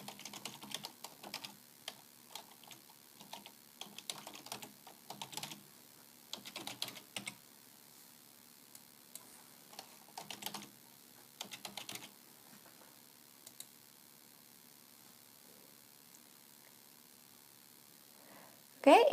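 Typing on a computer keyboard to sign in to an account, with bursts of quiet close key clicks separated by pauses, then a louder thump at the very end.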